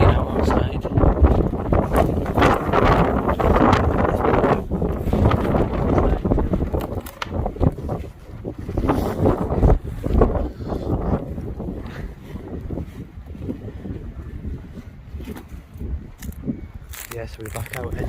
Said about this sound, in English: Very windy now outside.